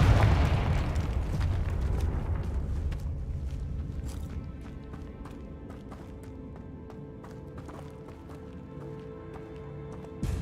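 Confringo blasting curse in Hogwarts Legacy, a loud booming explosion that rumbles and slowly fades into lingering debris and ambient tones, with sharp clicks scattered afterward.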